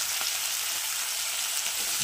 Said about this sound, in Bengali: এই পেঁয়াজ কুচি দিয়ে দিল,